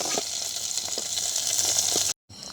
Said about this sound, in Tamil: நான் சின்ன வெங்காயத்தை சேர்க்கிறேன்